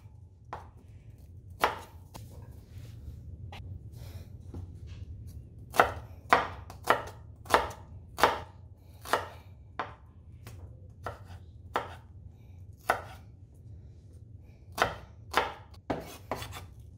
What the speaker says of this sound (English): 2 shallots, okay? They are all washed, peeled and clean. So I'm just slicing this.